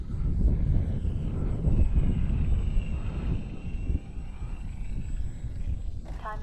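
An E-flite Valiant RC airplane flies in strong gusty wind, its electric motor giving a steady drone under heavy wind rumble on the microphone for the whole stretch, with no talk.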